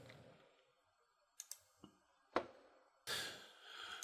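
A few separate computer mouse clicks sound faintly against a quiet room, followed by a short rustle or breath.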